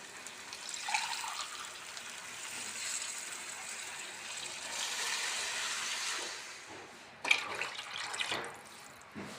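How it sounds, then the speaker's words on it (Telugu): Water pours in a steady, hollow rush into a cooking pot of basmati rice, its pitch shifting as it fills, then splashes and stops abruptly near the end. "ఏడు గ్లాసులు వాటర్ యాడ్ చేసుకుందాం"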